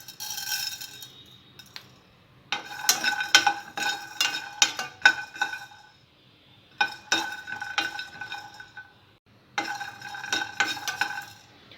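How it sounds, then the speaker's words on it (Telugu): Peanuts and then coriander seeds dry-roasting in a pan for Hyderabadi egg kurma, stirred in bursts of close scraping and rattling clatter separated by short quiet pauses, with no talk. "పల్లీలు కొద్దిగా రోస్ట్ అయిన తర్వాత ధనియాలు వేసుకోవాలి."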